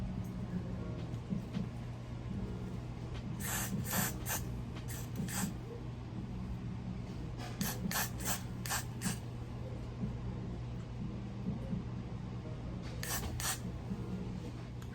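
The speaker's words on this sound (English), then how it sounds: "I'm just spraying it lightly" Liquid spritzed lightly from a spray bottle onto a braided wig, several short hissing bursts in clusters over a low steady hum, close and fairly quiet.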